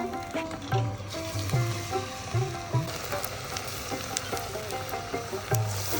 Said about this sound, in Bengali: তেল কিন্তু গরম হয়ে গেছে তো এবার আমি পেঁয়াজের বড়াটা ছেড়ে দেব এক এক করে এভাবেই ভেজে নেব